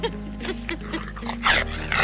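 Excited dog at a Peak District campsite whimpering and yipping in short, high, broken bursts, close to the microphone over a low steady hum.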